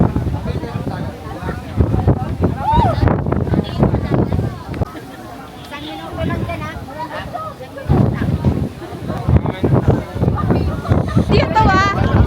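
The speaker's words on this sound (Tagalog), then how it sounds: "Lakas ng hangin." Strong wind buffets the microphone on a mountain hike at Dingalan, Aurora, roaring in heavy gusts that come and go, with people talking over it.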